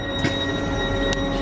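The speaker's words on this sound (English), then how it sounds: "The Aberdeen train is shortly to leave Inverurie." A train waits at Inverurie station on the Aberdeen line, giving a loud steady rumble with wheel and rail noise and two brief high squeals or hisses, with no voices.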